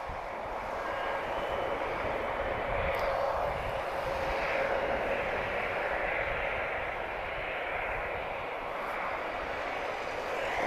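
A Boeing 767 with two Pratt & Whitney 4056 engines, nearly 21 years old, rumbles past at Lisbon Airport, a steady, moderately loud jet roar that swells slightly and fades, with faint talk underneath.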